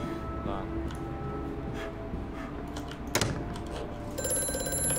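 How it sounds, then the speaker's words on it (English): A telephone ringing in the Amnesia: A Machine For Pigs video game, a shrill bell ring cutting in over a low droning background, with players talking. "I gotta take this phone call"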